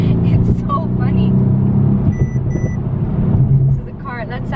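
A 2017 Mercedes-AMG C63s coupe in race mode sounds short electronic proximity warning beeps, a pair of brief tones over engine rumble, while someone talks through the whole clip.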